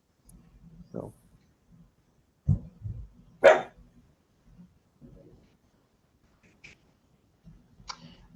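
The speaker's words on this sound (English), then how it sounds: "Yes, I have a little dog visiting me." A small visiting dog lets out a handful of short, sharp barks at irregular intervals, fairly close, with the loudest yelps bunched in the middle and quieter ones trailing off, over a low steady background hum.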